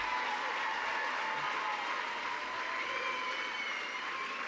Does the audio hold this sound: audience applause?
yes